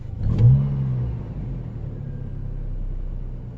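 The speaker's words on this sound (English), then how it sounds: "Alright, it's idling normal. Let's give it a little blip." Engine of a 2004 Chevy Colorado pickup, running with a rough idle on a cold day, gives a quick rev blip that swells and falls back within about a second, then settles into a steady low idle rumble.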